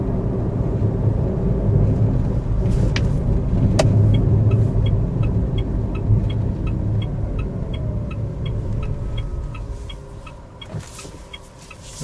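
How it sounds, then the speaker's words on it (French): A 2012 Mitsubishi i-MiEV electric car drives along with a steady road rumble and interior hum, a faint rhythmic ticking like a turn signal running partway through, and no voices. "ça fait 5 km qu'on roule sans problème avec la batterie indiquée vide."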